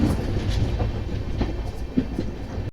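The Hemkunt Express rolls over rail tracks, heavy low rumble with repeated clickety-clack wheel beats at irregular spacing, heard from inside the moving train at moderate loudness.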